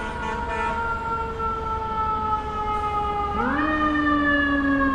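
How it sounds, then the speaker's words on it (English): An ambulance siren on a New York City street wails with sweeping tones that climb sharply near the end as it approaches, loud over steady traffic noise. No one speaks. "There's an ambulance coming."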